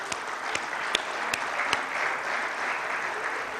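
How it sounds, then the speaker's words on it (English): An audience at an international energy conference in Baghdad breaks into sustained applause, a dense wash of clapping with a few sharper individual claps standing out over the first couple of seconds. "We deserve an applause for this"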